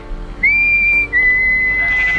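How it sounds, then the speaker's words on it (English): A person whistles to call a flock of ewes on a permaculture farm: one loud, close, sustained high whistle, briefly breaking and then resuming as a long steady tone. "I will whistle, my girls, they will come running to me."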